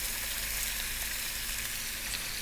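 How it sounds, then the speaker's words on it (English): Belly pork fries over medium heat with star anise and white peppercorns, giving a steady, even sizzle and crackle with no talk, loud and close throughout. "We're going to fry this for about 7 to 8 minutes."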